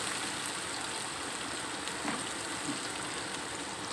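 Eggplant hitting a hot pan while cooking terong balado, a steady broadband sizzle and hiss that runs unbroken at moderate level with no voices.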